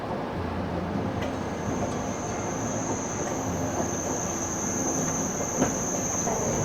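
A passenger train with a Vistadome coach rumbles steadily along its tracks between Araku and Jagdalpur, with a continuous rolling drone and a faint high whine above it, no voices present.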